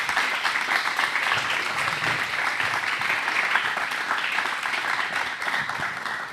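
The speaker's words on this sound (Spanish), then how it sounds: "quiero pedirles un aplauso para Andrea Testa, Francisco Márquez y Loli Moriconi" An audience at a film presentation and discussion claps steadily and warmly, a dense, sustained round of applause that holds its level throughout without anyone speaking.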